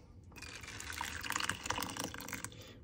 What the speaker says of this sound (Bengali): আমি ফ্ল্যাক্সিডগুলো ছেঁকে নেব।